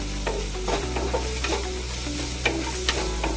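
Ginger, garlic and green chillies sauté in a pan for stuffed squid, giving a constant close sizzle with repeated light stirring scrapes and clinks over a low steady hum, and no talking.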